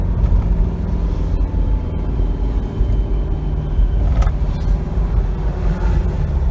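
A 2021 Force Gurkha's 2.6-litre diesel engine droning loudly near 3000 RPM from inside the SUV, a steady low rumble with road noise and no talking.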